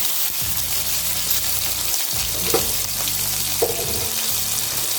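Half a teaspoon of ginger garlic paste dropped into a hot pan while making potato ghee roast, a steady hissing sizzle with soft stirring scrapes and no talk.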